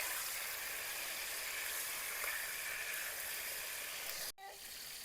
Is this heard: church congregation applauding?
no